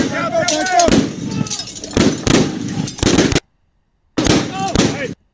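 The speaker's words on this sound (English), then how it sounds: "those 9 submunitions are going off one after another" Nine flashbang grenade submunitions detonating in quick succession during a police operation, heard as a run of loud, sharp booming blasts with a brief silent gap before a final burst.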